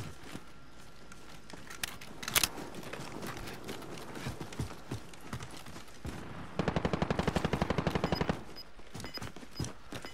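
Sniper gunfire in a video game: sharp single shots crack out amid a busy soundscape, then a rapid, evenly spaced burst of automatic fire rattles for about two seconds, with scattered thuds and footsteps around it.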